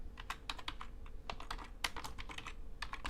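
Rapid, light keystrokes on a computer keyboard, close and clicky, in irregular bursts of quick taps across the whole stretch with no voices.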